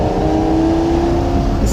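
A Lamborghini Gallardo's engine revs loudly and close, a brief rising roar with a strong throaty exhaust tone, heard alone without talk.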